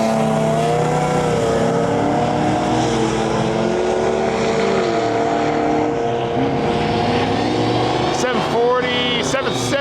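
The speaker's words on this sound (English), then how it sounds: "we got a V6 supercharged Chevette. Left lane here, let's check out their pass." V6 supercharged Chevette on a drag strip run, a loud sustained engine roar with rising and shifting pitch close by, joined by sharp bursts near the end, and a voice talking over it.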